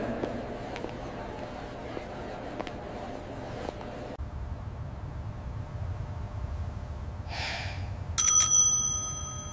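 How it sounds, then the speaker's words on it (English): A small meditation bell is struck once and rings out with a clear, bright tone that fades slowly, following a stretch of quiet room ambience and a soft breathy sound. "Let sound be the bell."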